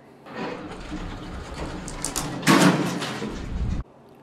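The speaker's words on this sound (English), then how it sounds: "Wait for the doors to close." Otis traction elevator doors sliding shut in an office building, a loud rumbling slide that builds for a few seconds, swells near the end, then stops abruptly with a closing thud.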